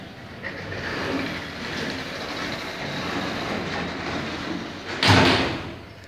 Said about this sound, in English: door closing.